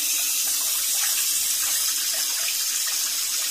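Tap water runs steadily into a bowl of rice being washed in a kitchen sink, a continuous close splashing flow with no talking.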